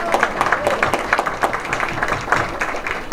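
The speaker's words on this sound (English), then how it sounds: "Give Michelle another round of applause as well." An audience claps steadily for a speaker at an awards event honoring Tom DiNapoli, a dense indoor round of applause lasting a few seconds with a voice faintly underneath.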